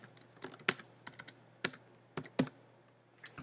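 A computer keyboard clicks out a track title in scattered bursts of keystrokes, crisp and close, with short pauses between groups of taps and no talk.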